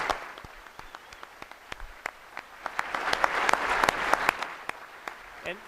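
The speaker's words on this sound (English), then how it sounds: "Could we give all these folks a fabulous round of applause?" A round of audience applause at a United Way annual meeting, steady mid-sized clapping with sharp individual claps standing out, swelling slightly in the middle and carrying on for the whole stretch.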